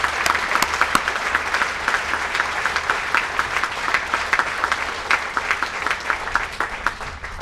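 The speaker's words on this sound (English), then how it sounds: "let's give them a round of applause." A large crowd at a US Forces Korea change of command ceremony gives dense, steady applause for honor units. The sharp overlapping claps stay loud and even throughout.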